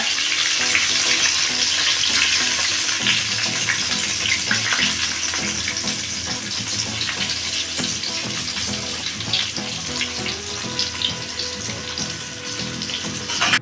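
KFC-style fried chicken bubbles in hot oil over a low flame in a home kitchen, a continuous dense crackling sizzle that stays steady throughout.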